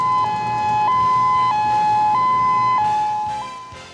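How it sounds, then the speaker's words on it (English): A loud two-tone power plant fire alarm alternates steadily between high and low pitches in a regular pulsing pattern, with no voices. "A pulsating alarm tone indicates a fire has been detected"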